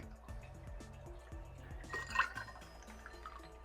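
Green apple soda poured into a mixed St. Patrick's Day drink, a quiet stream and fizz with a brief splashy burst in the middle, soft and close with light clinks.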